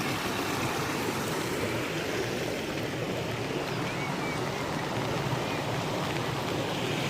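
Flowing water in an outdoor natural setting rushes steadily, a soft continuous wash that sounds a little distant and stays unbroken throughout, with faint wind in the background and no one speaking.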